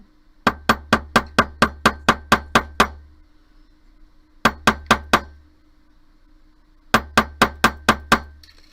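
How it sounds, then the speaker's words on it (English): Hammer blows on a wire earring frame, sharp metallic taps in three rapid bursts of about nine, four and six strikes, close and crisp, with quiet pauses between bursts. "then I'll hammer the rest of my frame"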